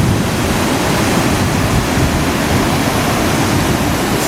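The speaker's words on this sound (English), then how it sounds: "Never seen the water push through here this bad. This is Hackberry Creek." Floodwater surges through Hackberry Creek near the MacArthur bridge in Irving after a severe pre-dawn storm, making a loud, steady, broadband roar with no pauses and no voices.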